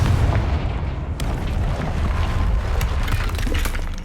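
A Confringo blasting spell explodes in the Hogwarts Legacy video game, a loud, dense low rumble of booming blasts that sustains throughout with a sharp crack partway through.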